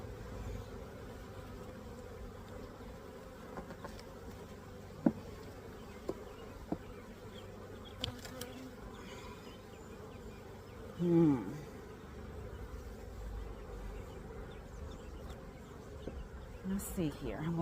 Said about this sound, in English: I'm going to check to make sure everything is nice, locked, and tight since there's so many bees in this hive